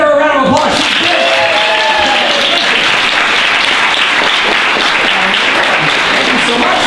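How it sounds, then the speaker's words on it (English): A convention panel audience breaks into loud, sustained applause right after a short spoken line, with many hands clapping steadily in a large room for several seconds. "Give her a round of applause."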